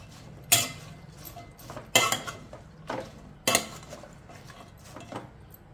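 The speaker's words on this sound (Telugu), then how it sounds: "ఇలా ఒకసారి కలిపేసుకోవాలి" A utensil stirs salted ingredients in a pan on the stove, with a few distinct scraping clinks about a second apart against a low steady background; no one speaks.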